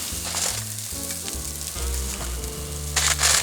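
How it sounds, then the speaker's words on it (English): Sirloin steak stir frying in a hot pan, a dense sizzle under a low steady hum, with a sharp burst of crackling near the end, loud and close, no talking. "So right now we're going to stir fry half of our steak."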